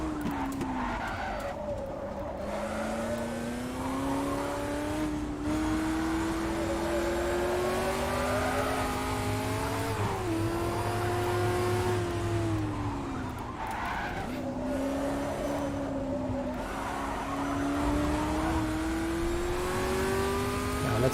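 Ferrari race car in Automobilista VR at Sebring, from a Ford vs Ferrari mod. The loud engine drones steadily, climbing and falling in pitch through repeated shifts, with skidding and tire noise under it and no voices.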